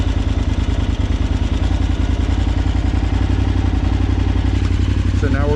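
A 2006 KTM 950 Adventure engine idles with the idle turned up, a loud, close, steady mechanical thrum with even firing pulses, while someone speaks over it.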